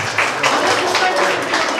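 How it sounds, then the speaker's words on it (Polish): Guests at Krystyna Dąbrowska's art exhibition opening keep up a warm, even round of hand-clapping, a close crackling wash of many hands with no pause. "brawa"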